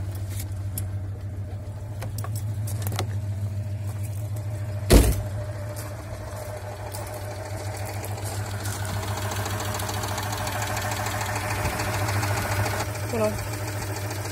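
A 1982 Citroën 2CV Charleston's small air-cooled engine idles with a steady low drone and rattly knock, broken once by a sharp thump; faint voices murmur in the background.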